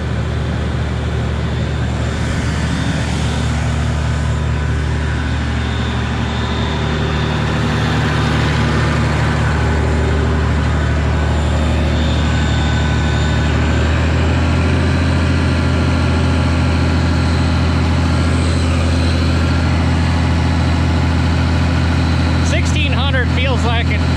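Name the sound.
engine running and building pressure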